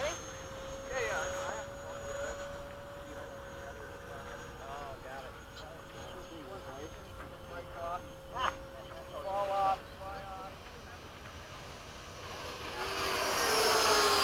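F/A-18 jets make a low pass overhead at an air show, a rising engine roar that swells toward the end, heard under people talking nearby.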